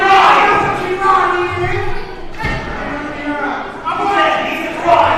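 A wrestling crowd in Fairmont, West Virginia chanting and cheering for Paulie, loud rhythmic group shouts rising and falling in waves, close and full, with a commentator's voice mixed in.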